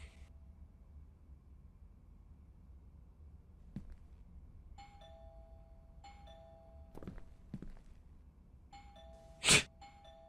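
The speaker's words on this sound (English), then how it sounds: "I should just ring the doorbell, see if he answers." A video game doorbell chimes several times in clean two-tone dings against near silence, with a few soft knocks or thuds and one brief sharp burst near the end.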